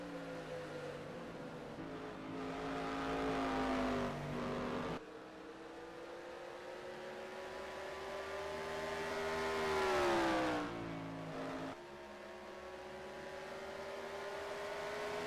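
Whelen Modified Tour race cars roar around Nazareth Speedway, engines rising and falling in pitch as they sweep past in a pack, with one loud close pass swelling and fading.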